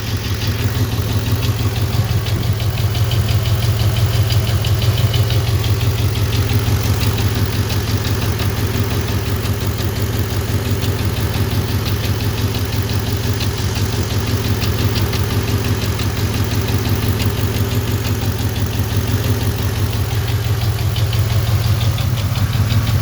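Engine idling steadily with a lifter ticking on cylinder number 4, a continuous close, loud running drone with a faint repetitive tick throughout and no talk.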